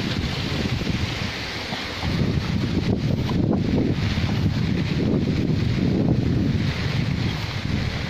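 Strong wind roars and buffets the microphone in a continuous low rumble, swelling slightly partway through, with no voices.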